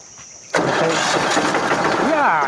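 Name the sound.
tractor engine starting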